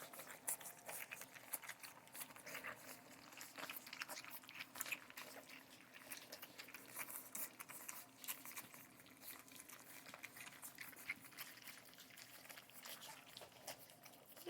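Hungry puppies eat from a dish, a faint, busy patter of chewing, lapping and smacking with small clicks of teeth, continuous and close in a quiet room.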